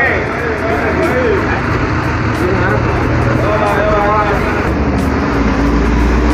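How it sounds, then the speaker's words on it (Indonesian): Harapan Jaya bus arriving from the Tulungagung direction via the toll road, a steady loud engine drone with road and traffic noise throughout, a deeper rumble building near the end. "Ada bus Harapan Jaya via tol dari arah Tulungagung datang pukul 9 lebih 37 menit."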